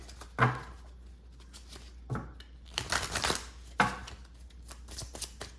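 Several bursts of tarot cards being shuffled, crisp riffling rattles separated by short pauses, close and fairly loud with no talking.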